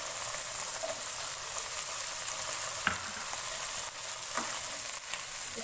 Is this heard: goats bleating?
no